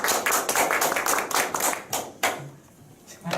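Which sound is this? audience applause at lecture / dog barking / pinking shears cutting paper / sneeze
audience applause at lecture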